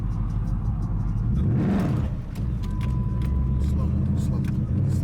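A manual Dodge Challenger pulls away in first gear with a close, steady engine rumble and low whir, while people talk over it.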